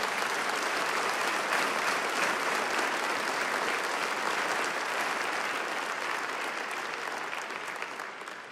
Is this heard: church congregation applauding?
yes